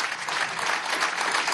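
Steady applause from a large audience at a televised Venezuelan government event honoring the Bolivarian National Armed Forces, dense and continuous clapping throughout with no break.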